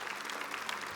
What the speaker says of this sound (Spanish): Es de un aplauso al Señor, que Él se lo merece.